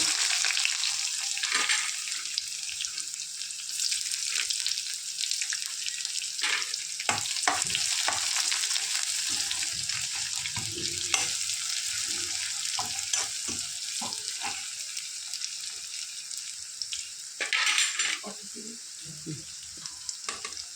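Mustard seeds, crushed garlic, curry leaves and onion frying in hot oil in a pan, a loud continuous sizzle broken by scraping stirs, with brief louder spurts of crackling.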